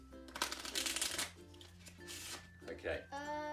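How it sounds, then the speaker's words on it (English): A deck of playing cards being shuffled during a magic trick, with quick riffling flutters close by, then people talking over and after the shuffle. "let's start with a bit of a shuffle, okay?"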